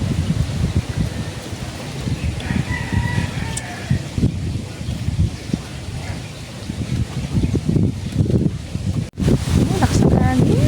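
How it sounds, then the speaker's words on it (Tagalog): Strong wind in a rural province garden buffets the microphone in heavy low rumbling gusts that swell and drop, with rustling foliage, faint birds and someone talking over it. "Lakas ng hangin."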